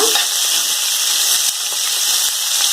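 Flat ghevda beans roasting in hot oil in a pan give off a continuous loud sizzle, with a dense crackling hiss that stays steady from start to finish.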